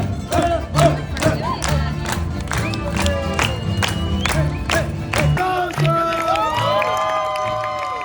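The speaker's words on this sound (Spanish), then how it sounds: "Y aplaudiendo, venga." A street crowd at a callejoneada in Guanajuato claps in a regular rhythmic beat while people shout and cheer, then singing voices take over toward the end.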